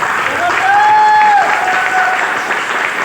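A hall audience claps for a mentor, the applause steady and fairly loud for about three seconds, with a voice or tonal sound riding over it early on.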